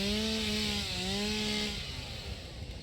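Chainsaw in the factory-building game Satisfactory revs with a steady droning whine that drops in pitch as it bites into a tree, a continuous near and fairly loud buzz trailing into a rougher grind, no voices.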